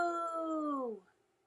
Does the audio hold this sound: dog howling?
yes